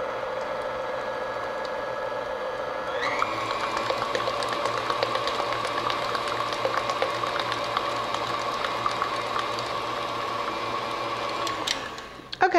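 An electric mixer beats pumpkin cake batter in a steady, whirring hum that steps up in speed partway through and runs on continuously with faint rattles before cutting off.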